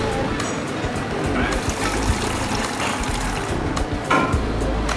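Running water pours steadily as food is rinsed under the tap in a kitchen, a continuous close splashing trickle throughout.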